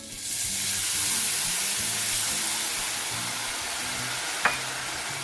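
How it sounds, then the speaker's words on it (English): White wine poured into a hot pan of risotto rice erupts into a loud, steady sizzling hiss that holds evenly for several seconds, with one faint clink near the end. "add your half cup of white wine"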